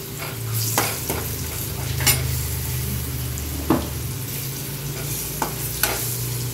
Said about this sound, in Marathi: इथे फोडणीमध्येच हळद टाकली आहे